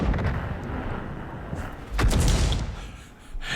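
Tank cannon shots and impacts from a tank battle video game, a dense rumbling barrage with a heavy booming blast near the middle, loud and continuous with no talking.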